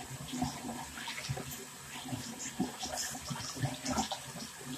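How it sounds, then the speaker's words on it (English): Hot water runs steadily from a tap, splashing and gurgling as something is rinsed beneath it, with faint clatter in the background. "I'm gonna rinse it off with hot water."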